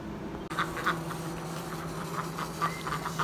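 Ducks quacking in a morning farmyard pen, a steady run of short nasal calls repeating close by over a low constant hum, no talk.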